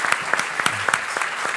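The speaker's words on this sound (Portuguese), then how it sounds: "queria pedir primeiro uma salva de palmas para todos eles" Audience clapping at a live event in honour of the speakers, a steady burst of many hands, close and fairly loud, with a few sharper individual claps standing out.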